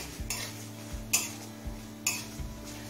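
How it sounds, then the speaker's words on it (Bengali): Nigella seeds and dried red chilies lightly frying in a pan, heard mostly as a spoon scraping and clinking against the pan several times, with only faint sizzling beneath. "কালো জিরে শুকনো লঙ্কাটা হালকা করে ভেজে নিয়েছি।"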